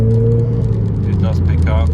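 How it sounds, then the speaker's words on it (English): Renault Clio RS engine pulling under light throttle in sport mode, a steady low drone heard from inside the cabin, with a voice talking over it. "I'm in sport mode now, so if I just put my foot down slightly"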